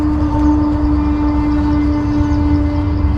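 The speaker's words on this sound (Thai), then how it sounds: "ที่เพื่อนได้ยินก็คือเสียงรถไฟนะครับ" A steady, loud mechanical rumble with a sustained tonal hum from a train rolling past close by an abandoned temple, continuous throughout with no talking.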